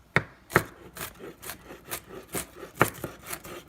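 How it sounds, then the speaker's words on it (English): A small, very sharp camouflage-pattern kitchen knife chops golden beets on a cutting board for pickling, giving a few crisp knocks followed by softer, irregular rocking taps, close and fairly quiet with no talking. "when you cut, you got to do rock the knife out like this"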